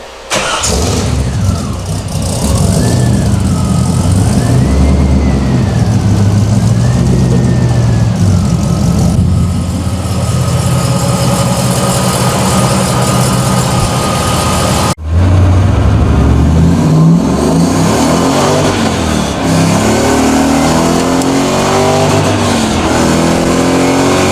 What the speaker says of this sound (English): First start after the exhaust has been installed.